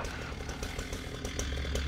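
A chainsaw in the Into the Dead video game roars loudly and continuously, a dense, rough buzzing that fills the short moment.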